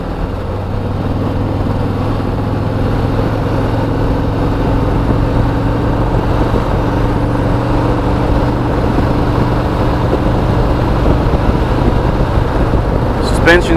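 A 2018 Harley-Davidson Road Glide Ultra motorcycle on the move, its engine drone steady and loud with wind noise throughout, holding an even level for the whole stretch.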